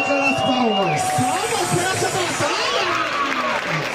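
A rap battle crowd applauds and cheers in a loud, continuous roar, with shouting voices and talk layered over the clapping.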